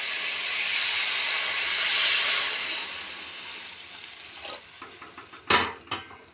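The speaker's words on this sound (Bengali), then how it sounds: "পাট শাকগুলো ভাজা ভাজা হয়ে গেছে। এবার আমি এতে জল দিয়ে দেবো।" Water hits hot oil and frying jute leaves in a pan, a loud burst of hissing sizzle that swells and slowly dies down, then a few sharp clatters of a spoon stirring the pan.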